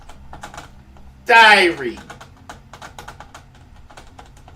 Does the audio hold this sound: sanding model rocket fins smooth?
no